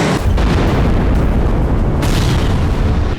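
Loud, continuous rumbling blasts of explosions from strikes on Russian territory in the Kursk region during the Russia-Ukraine war, dense and booming throughout with a sharp fresh burst near the end, no speech.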